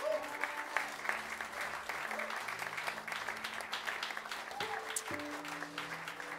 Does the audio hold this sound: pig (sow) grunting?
no